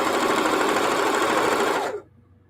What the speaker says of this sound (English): I'm sewing crooked off the side of the block